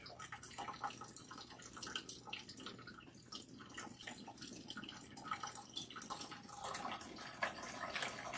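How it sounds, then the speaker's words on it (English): Water streams from a tap while hair is rinsed, a faint steady running and splashing with scattered drips, close by and low in level. "And now we are going to rinse."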